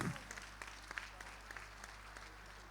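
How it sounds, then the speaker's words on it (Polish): Applause from an audience for a young female competitor at a competition's trophy ceremony, a soft, fairly distant patter of clapping that holds steady throughout. "Wielkie brawa dla tej młodej zawodniczki."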